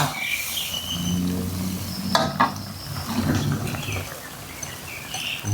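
Spicy papaya and pork belly curry boils hard in a pot, with busy close bubbling, a few sharp stirring clinks and faint chirps in the background.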